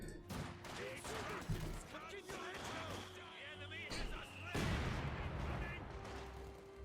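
Mortar fire and explosions in the World War II strategy game Company of Heroes 2 on an Across the Rhine 3v3 map, repeated booming impacts and gunfire bursts under a commentator's voice.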